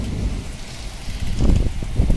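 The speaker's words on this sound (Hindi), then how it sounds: "और बादल भी गरज रहे हैं काफ़ी तेज़" Heavy rain pours steadily on a farm at night with deep low rumbles of thunder swelling louder toward the end, no voices present.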